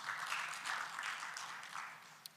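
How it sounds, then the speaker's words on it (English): Audience applause at a medical scientific conference session as a presenter returns to her seat, a soft, fairly distant patter of many hands clapping that thins out toward the end, with a couple of sharper isolated claps. "Let's give her a round of applause as she sits down"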